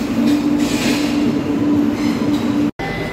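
The Sabari Express, hauled by a WAP-7 electric locomotive, arrives at platform 1 with a loud, close, steady rumble of rolling wagons, a sustained low hum and brief higher squeals, cut by a short dropout near the end.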